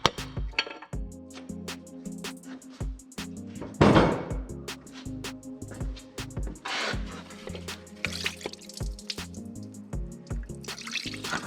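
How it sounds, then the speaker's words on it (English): Engine coolant dripping and splashing from a Chevy Cruze onto the ground during a water pump replacement, irregular close patters and trickles with a louder gush partway through, over faint background hum, no voices. "And more coolant going on the ground."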